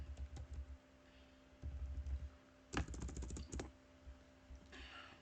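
Code is typed on a computer keyboard, clusters of quick close key clicks with a dense burst of rapid keystrokes in the middle, over a low steady electrical hum.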